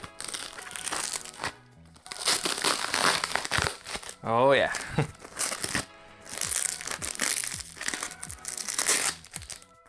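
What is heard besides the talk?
package being unboxed, crinkling packaging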